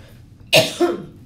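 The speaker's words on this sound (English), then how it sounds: "just so that I'm not coughing in your ear for the entire video" A single sharp cough close to the microphone, followed by a smaller second burst, in an otherwise quiet room.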